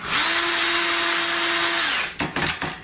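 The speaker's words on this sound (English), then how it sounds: "I'm going to hold my drill at an angle right here." A power drill whirs loudly at a steady pitch for about two seconds, then stops, followed by a few short bursts as the screw seats.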